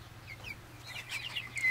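Baby turkeys chirp in thin, high peeping calls, with soft cheeps rising and growing louder toward the end over low background hum.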